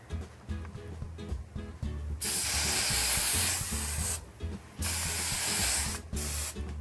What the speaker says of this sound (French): Puis je vais venir fixer avec du spray.